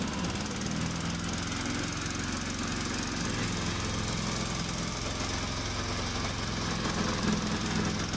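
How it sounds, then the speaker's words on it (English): The small engine of a remote-controlled rubber-track slope mower runs steadily with a rough, knocking hum, loud and constant throughout with no voices. "Press this button to start the engine."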